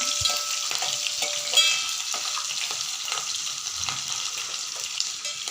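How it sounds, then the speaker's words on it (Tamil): Onion, green chilli and garlic sautéing in oil for a Tamil fish curry, a continuous even sizzle with light stirring scrapes, steady and moderately quiet. "ஒரு 2 பச்சை மிளகாய், கொஞ்சமாக பூடு இதெல்லாம் போட்டு நல்லா வதக்கிக்கலாம்."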